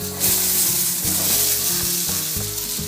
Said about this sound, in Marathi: थोडं मिक्स करून घ्यायचं अर्धा मिनटं तेलावर चांगलं परतवून घ्यायचं